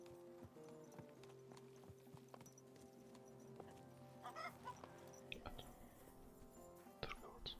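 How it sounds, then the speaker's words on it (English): Horse hooves clip-clop in a steady walking rhythm as a rider travels in a medieval video game, quiet and continuous, with faint fowl sounds and spoken game dialogue over it. "Is this your first time riding a horse"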